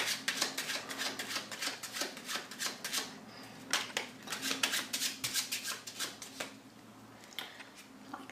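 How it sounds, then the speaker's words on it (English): A deck of playing cards shuffled by hand during a close-up magic trick, rapid riffling and snapping bursts repeated in quick rhythmic runs, close and fairly quiet with no talking. "So I put your card on the top of the pack and I shuffle"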